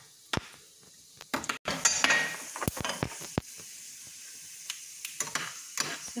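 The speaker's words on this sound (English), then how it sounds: "So, until this is dark brown, we will just fry it and take it out." Coconut pieces frying in ghee in a pan for moong dal kheer, a faint sizzle under intermittent sharp clinks and scrapes of a utensil against the pan.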